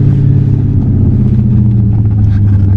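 Low, steady exhaust drone from a 2013 Dodge Charger SRT8 with a nearly full straight pipe, heard from inside the car as a loud, constant, deep humming rumble with a faint rise near the end.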